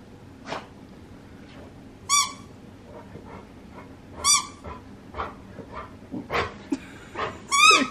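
A dog plays with a squeaky toy indoors, setting off three sharp, high squeaks spaced a couple of seconds apart. Between them come softer rustles, thumps and faint whimper-like sounds at close range.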